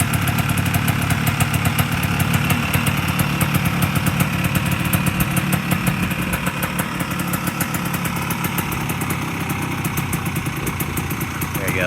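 A 1986 Honda TRX 250R quad, a factory show bike restomod, idles steadily while warming up, its two-stroke engine putting out a continuous buzzing, close and loud throughout.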